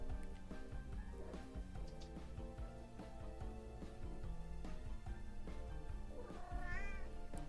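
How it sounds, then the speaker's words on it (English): A cat meows and caterwauls faintly beneath continuous background music, with a few wavering cries standing out near the end. "do you hear the cat? Do you hear her?"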